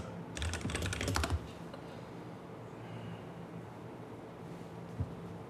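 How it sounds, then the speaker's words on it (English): Quick keystrokes on a computer keyboard clatter up close in a dense burst of about a second, then stop, leaving faint room noise and a single soft tap near the end. "let me just type this in"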